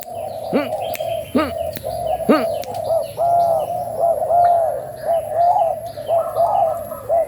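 A Malay-type spotted dove's soft repeated cooing sounds amid sharp bird chirps and tweets, with other birds calling in the background.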